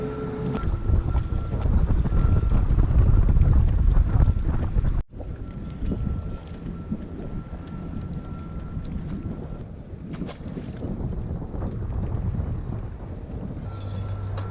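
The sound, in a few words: strong wind on a sailboat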